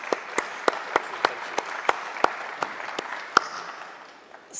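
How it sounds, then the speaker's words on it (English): An audience at an emergency medical team meeting applauds a panel's presentations, a moderate, steady round of clapping with sharp individual claps standing out, fading at the end. "just wonder if we could just give everyone another round of applause for their fantastic presentations today"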